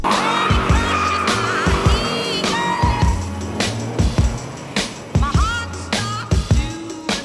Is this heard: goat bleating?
no